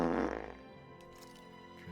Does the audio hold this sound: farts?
yes